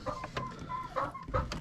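Backyard chickens gathered at a fence cluck in short, repeated bursts close by, several hens calling over one another in an uneven rhythm.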